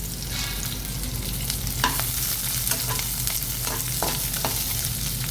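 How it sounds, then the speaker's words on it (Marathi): Two roughly chopped onions frying in hot oil for a biryani, a steady close sizzle throughout with several scraping stir strokes from a spoon in the pan. "इकडे मी 2 कांदे आबडधोबड कापून ते ह्या तेलात परतून घेणार आहे"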